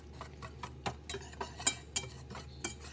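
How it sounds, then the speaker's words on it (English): Dry spices and flour being whisked together in a bowl, with freshly grated nutmeg and mixed spice for a gluten-free almond and coconut flour Christmas fruit cake; a scattering of light, irregular clinks and scrapes against the bowl, close and fairly quiet. "we're just going to whisk all of this together"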